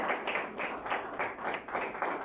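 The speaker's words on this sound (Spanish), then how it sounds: "¿Cuántos le dan un aplauso al Señor, amados hermanos?" A church congregation at an evening service claps to praise the Lord, its dense clatter pulsing in a loose rhythm at moderate loudness with no talking over it.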